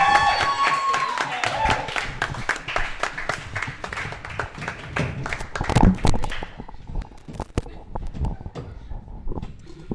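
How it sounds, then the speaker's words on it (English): Loud, dense clapping from a crowd fills the space, with a brief whistle early on, then thins out toward the end. "Kieran, everybody, round of applause."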